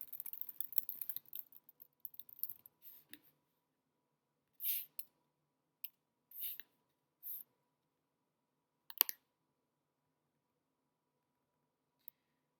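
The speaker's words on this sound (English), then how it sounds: "So I'm going to write here as well, types of training." Pen or marker scratches out notes on a board during a security guard course class: a dense run of short scratchy strokes, then a few separate bursts with pauses between, close and fairly quiet.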